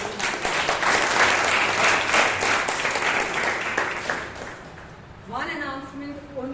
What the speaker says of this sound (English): Let's thank and give a round of applause for General Evaluator.